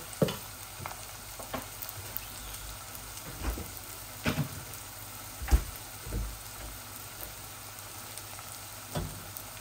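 Onions sautéing in a pan with ginger-garlic and salt, a faint continuous sizzle with scattered spatula taps and scrapes every second or so, close but quiet and without voices.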